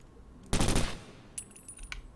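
Gunfire in the tactical shooter Takedown Red Sabre: one loud, sharp shot, then quieter clicks and metallic in-game sounds, with no talking.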